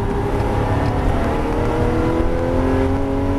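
A Porsche GT3 engine on a race circuit holds a steady, loud drone heard from inside the car, its rising harmonic tones showing gradual acceleration with no break.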